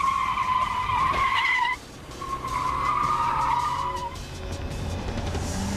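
An armored car is bumped in the rear bumper and spins, its tires squealing in two long loud skids separated by a brief drop, with engine noise underneath.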